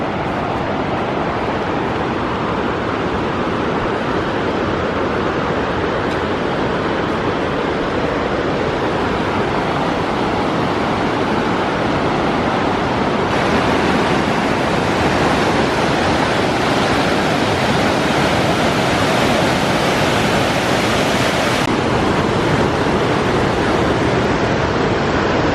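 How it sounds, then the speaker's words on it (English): Heavy rushing water from extensive upper, middle and lower waterfalls pouring through downtown Spokane, a steady loud broadband roar that swells slightly partway through and holds throughout with no voices. "That was a lot of extensive waterfalls. A lot of water moving through downtown Spokane."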